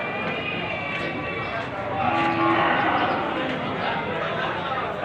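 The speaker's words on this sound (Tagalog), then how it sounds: "Ang daming baka din sa lugar na rin oh." Many cattle low and moo together in a crowded livestock setting, a steady mass of bovine calls with people talking over the herd.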